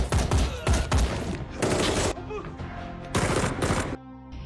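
Rapid bursts of automatic gunfire crack out during a film shootout between special forces and criminals, loud, dense volleys separated by brief pauses.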